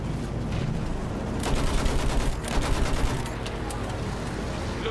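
Rapid gunfire bursts from a machine gun in the Battlefield 1 prologue battle, dense and continuous over a loud background of combat noise, with no speech.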